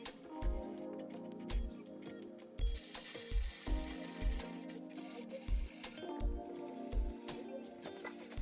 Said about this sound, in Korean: 폼을 쏘실 때는 최대한 흔들어 가지고 자체에 지금 많이 쏘게 되게 되면은 상당히 많이 부르니까 적당히 쏴야 돼요.